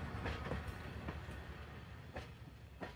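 A passenger train runs on rails toward Bardhaman, a steady low rumble with rhythmic clickety-clack wheel beats, fairly faint and continuous.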